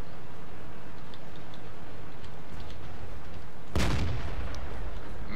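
A tank cannon fires in the World of Tanks game: one sudden loud blast near the end, after a stretch of low steady rumble and faint ticking.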